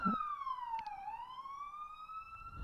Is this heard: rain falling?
no